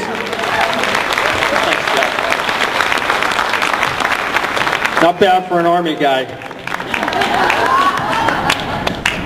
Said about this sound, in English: Ladies and gentlemen, big round of applause for Jerry DeLemus.